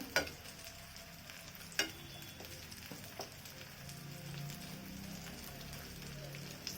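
Potato and egg batter spread across a flat tawa fries with a soft, steady sizzle throughout, broken by a few sharp clicks and taps of a utensil; no voices.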